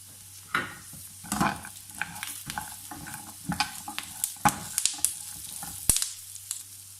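Melon seeds and sesame being lightly dry-roasted and stirred in a pan for laddu, with soft scraping and rattling strokes in irregular bursts, close and fairly quiet, no talking.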